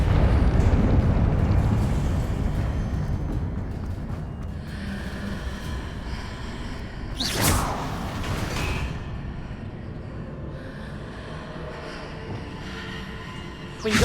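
A Confringo blasting spell explodes in the video game Hogwarts Legacy, a loud rushing boom with a long rumbling tail amid continuous game background noise.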